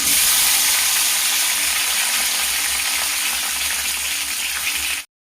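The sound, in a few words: chopped tomatoes frying in oil in a pan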